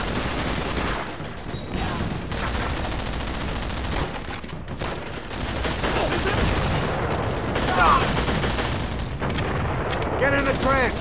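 Dense, continuous gunfire and machine-gun bursts roar through a trench battle in Call of Duty: World at War – Final Fronts on PS2, with shouted voices under the sustained clatter and occasional heavier booms.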